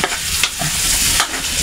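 Garlic sizzles and fries in a hot pan for seafood crab cooking, a loud continuous crackle close up with brief stirring scrapes.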